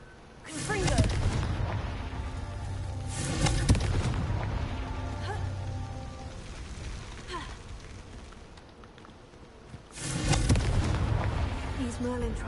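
Confringo fire spell explosions in Hogwarts Legacy during Merlin trials gameplay, several loud booming bursts spaced apart with rumbling in between, a voice speaking briefly among them.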